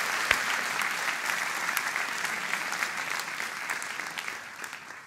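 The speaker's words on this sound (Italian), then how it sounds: "Grande applauso." Sustained applause from a crowd, steady and fairly loud throughout with a few sharper claps standing out, fading slightly toward the end; no voices over it.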